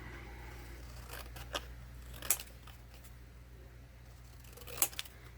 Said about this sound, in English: And let's cut this out.